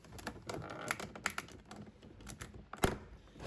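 A series of quick sharp clicks and snaps from plastic trim clips popping off a Seat Arona door panel, irregular and close, with one louder crack near the end, no voices.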